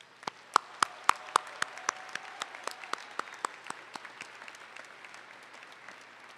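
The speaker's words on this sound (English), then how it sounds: "let's give those people a round of applause." Applause at a Wayne State University December commencement ceremony for graduates: a sparse, fairly faint patter of individual claps in a large hall, starting with several sharp close claps and thinning out over about six seconds, with no talking.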